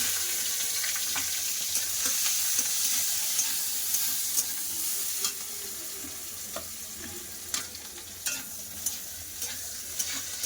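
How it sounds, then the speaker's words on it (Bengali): Onion and black cumin seeds fry in hot oil: a steady, close sizzle runs throughout, with scattered sharp clicks from stirring that grow more frequent toward the end, and no voices. "তেল গরম হয়ে গেছে ফুড়ে দিচ্ছি কালো জিরে যেহেতু পেঁয়াজ করলে তরকারি তার জন্য কম করে একটু পেঁয়াজ দিয়ে দিচ্ছি"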